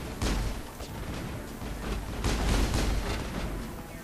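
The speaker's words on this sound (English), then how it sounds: "Alright, I hear gunfire" Gunfire in the Mass Effect video game, a dense run of sharp cracks and booming volleys repeating throughout, loud and close with a steady rumbling background.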